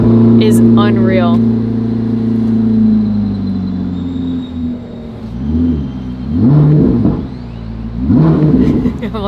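A 2026 Corvette ZR1X idles with a deep, loud rumble close by, then rises through several short revs limited to low rpm, while a person speaks over it.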